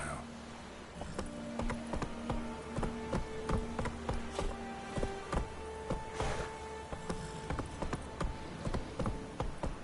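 Horse hooves clip-clop steadily in a video game, a regular trotting rhythm of hard taps repeating throughout at moderate distance, with no talk over them.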